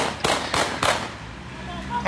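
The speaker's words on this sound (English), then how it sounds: "the gunshots gonna ring out" Three sharp gunshots crack out in quick succession from a phone recording, each a loud broadband burst, followed by a quieter stretch and another sudden bang at the very end.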